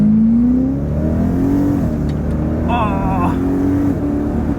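A BMW E90 M3 fitted with an Akrapovic exhaust revs up and falls back in a few rising, swelling sweeps, close and loud, with a brief exclamation from a person partway through.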